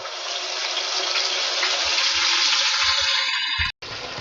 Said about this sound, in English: let's fry these up